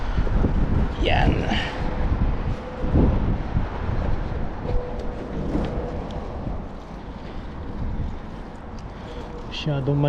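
Strong wind buffets the microphone during shore fishing, a steady broadband rumble running the whole time, with voices talking over it and brief splashy knocks.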